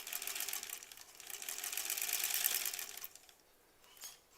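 A sewing machine runs steadily for about three seconds, stitching a seam on a granny-squares quilt, with a close, busy mechanical whir that then stops and leaves only faint handling noise.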